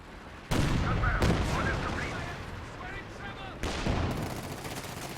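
An artillery barrage with gunfire in the video game Company of Heroes 2, during a 2v2 match: two heavy, loud impacts, each trailing into a long rumbling decay, over continuous battle noise.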